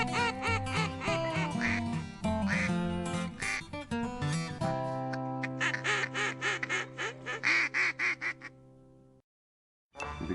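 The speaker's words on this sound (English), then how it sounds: "There's a bunch of ducks in there too" A bunch of ducks out in a field beside a big combine, quacking repeatedly in a steady, fairly close run of calls that stops abruptly near the end.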